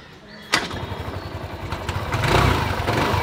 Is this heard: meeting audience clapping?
no